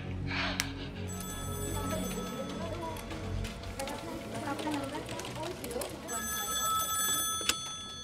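A telephone rings with a steady electronic trill, heard twice with a pause between, over background chatter and ticking noise.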